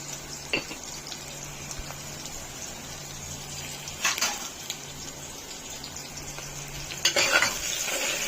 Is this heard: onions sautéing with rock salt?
yes